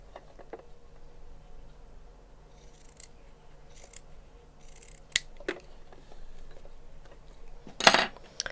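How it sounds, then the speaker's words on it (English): Scissors snip through a cotton fabric seam allowance while bias binding is being made, giving a few crisp, close cuts spaced apart over a quiet room background, with the sharpest snip near the end. "I'll just trim that seam allowance."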